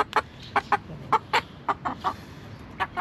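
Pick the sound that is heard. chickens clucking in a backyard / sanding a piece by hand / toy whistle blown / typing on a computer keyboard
chickens clucking in a backyard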